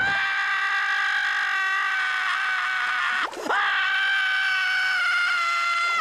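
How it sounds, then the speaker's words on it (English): Squidward from SpongeBob screams in a bathtub in a long, loud, sustained cartoon wail that breaks off for a moment and then carries on at full strength to the end. "This face by Patrick and Squidward screaming in the bathtub are both very popular memes on YouTube"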